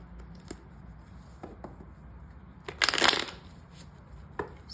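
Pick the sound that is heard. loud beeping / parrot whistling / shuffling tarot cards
shuffling tarot cards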